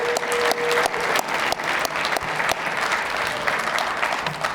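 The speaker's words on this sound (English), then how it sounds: "One more round of applause." Sustained applause from an audience at a 2022 USTA Midwest Hall of Fame ceremony, dense steady clapping that fills the whole stretch at an even level without pause.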